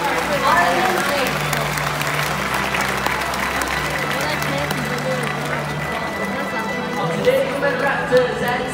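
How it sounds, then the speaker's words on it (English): Audience applause at a bird-of-prey show, steady crowd clapping mixed with crowd noise and a speaking voice, continuing for several seconds. "let's take a moment and give a round of applause to these amazing birds"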